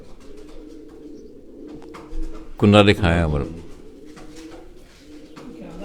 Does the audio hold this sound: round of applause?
no